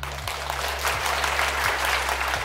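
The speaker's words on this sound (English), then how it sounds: "Cue round of applause." A round of applause sound effect rises as a steady, even wash of many hands clapping, with a low repeating tone running beneath it and no talking.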